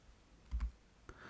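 A computer mouse gives a quick double click followed by one more sharp click in an otherwise quiet room, close and crisp.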